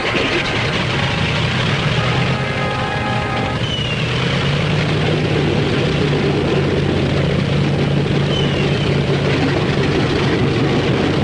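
Propeller engines of World War II military bombers starting up and idling, a heavy low droning rumble with loud rough mechanical noise that builds and holds steady throughout, no voices.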